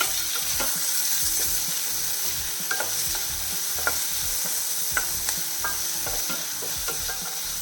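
Chopped medium onion sautéing in a pan for wheat flour ada dosa, a constant soft sizzle with light clicks of stirring at irregular intervals, close and alone.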